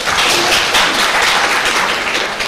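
An audience claps warmly at a gathering, dense and steady applause close and loud from start to finish, with no other sounds.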